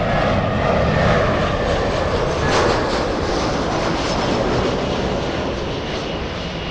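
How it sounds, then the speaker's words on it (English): An Alaska Airlines jet airliner taxis at LAX toward Terminal 6 on the south side, its engines giving a loud, continuous rushing whine close by that eases slightly toward the end. "And there goes Alaska Airlines going to the south side, heading to Terminal 6"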